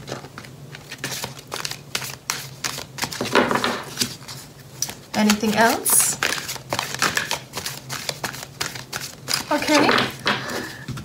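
Tarot cards are shuffled in soft, repeated riffling and crinkling bursts, with occasional light taps, while a person talks quietly in between.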